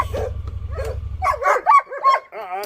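Several dogs bark and yip in quick bursts, the last one whimpering, after a steady low engine hum fades out.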